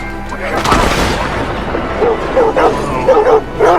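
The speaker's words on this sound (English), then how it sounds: "Saint Denis law enforcement has a canine unit. These dogs are hostile" Hostile police dogs from the Saint Denis canine unit in the video game Red Dead Redemption 2 bark and yip several times in quick bursts, mid-distance, over a rumbling game soundscape with a loud thump early on.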